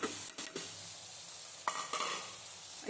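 Chicken fries in a pot with spices as it is stirred, giving a steady quiet sizzle broken by a few brief scraping stir strokes.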